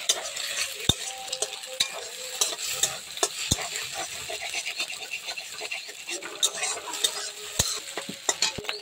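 An egg fries in a pan for chowmein, its sizzle running under frequent clinking and scraping strokes of a spatula against the metal, a busy uneven rhythm close up.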